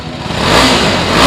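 A BMW RR 310 superbike engine revs loudly through its exhaust, building from a rough throaty note into a sustained higher roar close by over about a second, with no voices.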